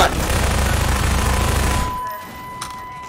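Loud rapid automatic gunfire from a game weapon rattles continuously for about two seconds and then cuts off sharply, leaving quiet room tone and a faint tonal hum.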